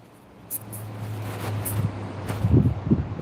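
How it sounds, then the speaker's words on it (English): Wind buffets a microphone outdoors on a Pensacola vacation evening, low rumbling gusts with a steady hum that rise and thump in bursts toward the end, no speech. "I know it's windy outside."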